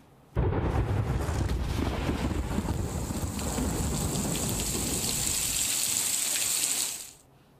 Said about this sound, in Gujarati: ઉત્તર ગુજરાતમાં મેઘો મન મૂકીને વરસી રહ્યો છે।